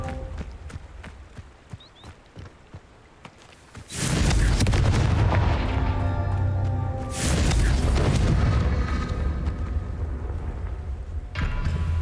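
A Confringo blasting spell bursts in Hogwarts Legacy: a loud, deep explosion hits suddenly after a quiet stretch, rumbles on, then a second heavy blast follows with a long roaring tail.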